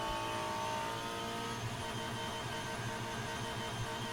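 Sim race cars in a BTCC league round at Oulton Park drive flat out down the back straight, their engines holding a steady high-revving drone that layers several tones, continuous and moderately loud with no speech.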